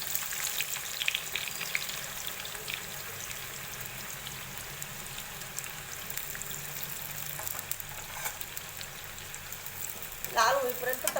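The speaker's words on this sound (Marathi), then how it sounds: "आपण एका पॅन मध्ये तेल ठेवले तापवायला आणि आपले 2 कांदे कापून झालेले आहेत। आता आपण तळून घेणार आहोत।" Two sliced onions fry in heated oil in a pan with a continuous soft crackling sizzle at moderate level and a brief burst of louder scraping near the end.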